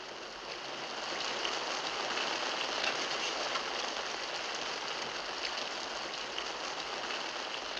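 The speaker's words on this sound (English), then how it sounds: "It's raining outside." Steady rain falls outside in an old Western, a dense even hiss that holds at a moderate level throughout with no voices over it.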